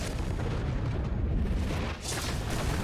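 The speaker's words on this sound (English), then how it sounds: "Big bomb." A big bomb explodes in the Honkai: Star Rail video game, a dense, sustained rumbling blast with heavy low-end weight that holds loud for nearly three seconds, dipping briefly before surging again, with no voices over it.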